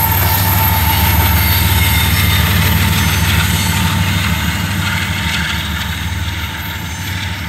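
Stack freight train rolling past close by, a steady loud rumble of wagons with rhythmic wheel clatter and a thin squeal from the rails, holding throughout and easing slightly at the end.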